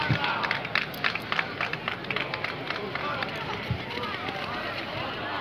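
Street crowd at a bull-running competition in La Vall d'Uixó breaking into applause, a dense burst of claps at first that thins out, with crowd murmur and shouting throughout.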